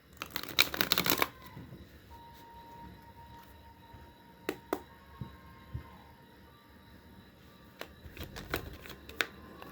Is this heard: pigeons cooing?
no